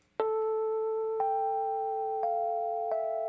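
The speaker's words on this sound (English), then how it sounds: "the main key Rhodes part on this track was actually started with something that I just played" Four mellow, bell-like notes on a Rhodes electric piano ring out one after another, each struck cleanly and left to sustain with a soft decay in a quiet studio.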